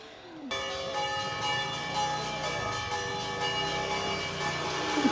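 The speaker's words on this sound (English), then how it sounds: "every church bell in the city is ringing at once" Church bells across an Italian city suddenly start ringing together, a sustained, layered clang of many bells heard from a distance that fills the air without pause, with no voices over it.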